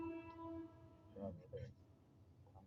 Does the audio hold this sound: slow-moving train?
yes